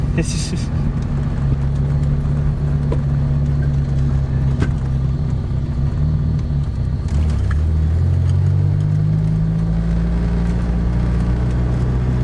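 A 1987 car with a 2.2-litre turbocharged four-cylinder accelerates hard through first and second gear, engine droning loudly and close, pitch climbing and then dropping at a gear change before rising again, with a voice talking over it.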